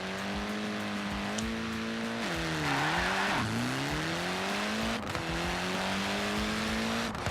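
Honda Civic Type R launching in the racing game Forza Horizon 4: a loud, continuous engine roar climbing through the revs, dipping briefly at gear shifts and then pulling up again, with faint tyre noise.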